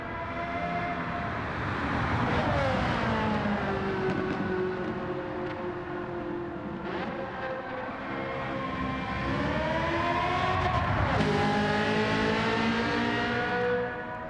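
A high-revving Ferrari racing engine in a Gran Turismo 7 video game screams through rising and falling gear shifts, sustained and loud, with no voices.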